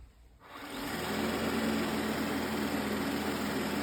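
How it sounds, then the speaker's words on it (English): A robot vacuum's base starts emptying the bin, its motor quickly ramping to a loud, steady whirring roar that holds evenly, close by. "It is a little noisy when it empties because it's like a vacuum sound"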